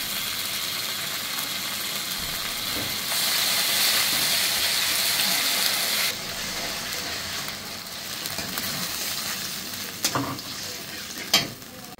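Ginger garlic paste hitting browned onions in a hot pan, a loud continuous sizzle that surges midway, with stirring scrapes and a couple of sharp utensil knocks near the end.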